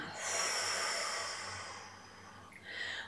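A long, slow breath out during a qi gong exercise, close and soft, a steady airy exhale that fades, followed by a shorter breath at the end, with no talk.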